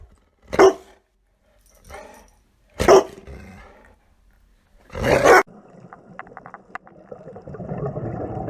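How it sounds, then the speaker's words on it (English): A dog gives three loud, separate barks about two seconds apart, close and clear, followed by a softer, steady mixed background with light clicking sounds. "Funny dog."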